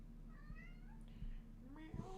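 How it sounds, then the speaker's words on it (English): A pet cat meows in a few short, thin calls close by in a quiet indoor room, with soft background hum between them. "Oh, kitty."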